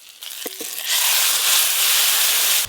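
Mustard-spiced gourd greens hit hot oil with a loud, steady sizzle that starts abruptly after a couple of soft clinks and holds close and strong to the end.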